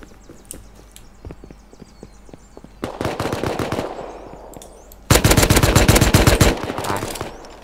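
Automatic gunfire in the survival video game Rust, rapid bursts of shots in two loud rolling volleys after scattered single clicks and thuds, close and dense, with no talking.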